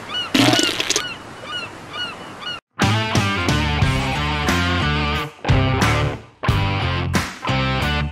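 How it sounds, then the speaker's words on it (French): Seagulls call loudly and repeatedly nearby, in bursts of nasal, honking cries separated by short pauses. "Et il y a même les mouettes."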